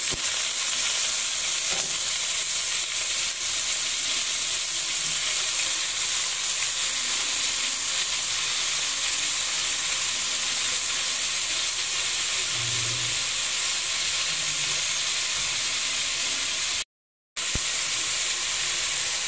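Chicken feet frying in a pan with garlic, giving off a steady loud sizzle and hiss throughout, with a brief dropout near the end and no talking.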